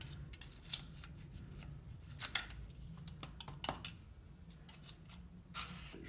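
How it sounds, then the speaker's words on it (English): A metal scraper scrapes rust scale off a rusty metal part, giving close, irregular rasping strokes with sharper scratches over a low background hum. "Let's try and just scrape some scale off here."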